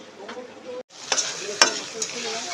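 Bay leaf and cumin hitting hot oil for a duck meat curry, a close, steady hiss and sizzle broken by a brief gap, then stirring clicks over the frying.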